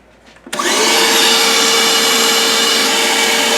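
A handheld cordless vacuum with its crevice tool attached switches on abruptly and runs as a steady, loud, high-pitched whine with broadband rushing airflow, close up and continuous.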